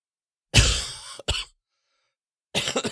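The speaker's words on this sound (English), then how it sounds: "That cough is real," A single harsh cough bursts out close by, followed by a short second cough, then silence before more noise begins.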